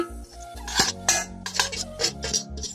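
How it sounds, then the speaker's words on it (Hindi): Onion, garlic, ginger and green chillies tumble into a grinder jar in a quick run of clinks and knocks, close and fairly loud, with no talking. "मैं इनको डालती हूँ इस जार में"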